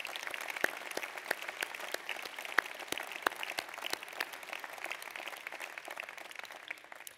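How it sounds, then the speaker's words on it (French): Scattered, moderately sparse applause from a small audience at a New Year's greetings ceremony, individual claps distinct and steady, fairly quiet and heard from a distance. "Nous pouvons les applaudir."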